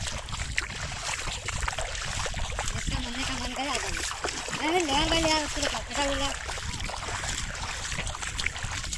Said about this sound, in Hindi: यह चांदीपुर का लहरी देखिए जब पानी आता है धीरे धीरे